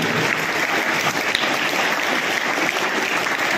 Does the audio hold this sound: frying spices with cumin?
no